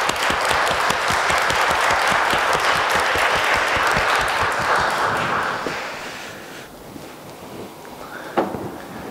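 A church congregation claps together during a Sunday worship service, a dense burst of applause that fills the room for several seconds, then thins and fades out into quieter room noise.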